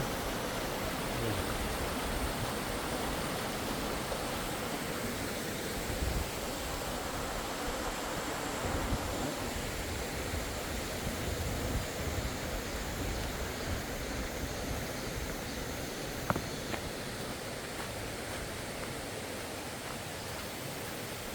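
Steady broadband rush of a mountain valley stream in a forested county park gorge, continuous and fairly close, filling the whole stretch with no pauses and no talk over it.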